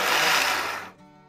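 A kitchen mixer grinder whirs loudly while blending coriander, mint, roasted onion and coconut, then cuts off abruptly, leaving a faint ringing tail.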